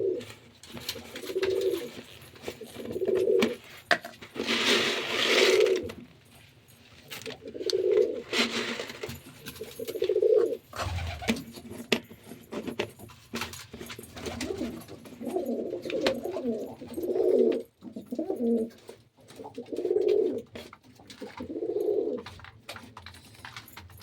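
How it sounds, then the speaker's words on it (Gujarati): Pigeons coo in a steady series of soft, rounded calls repeating every second or two, close by and fairly loud, with light rustling between them while the birds feed on scattered grain. "દાણા નાખી દઈએ ને એટલે આપણે કબૂતર દાણા ખાઈ લઈએ"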